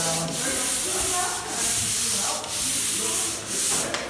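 Hand sanding a painted surface: steady abrasive rubbing strokes sweep back and forth at close range, with brief pauses roughly every second as the paper changes direction.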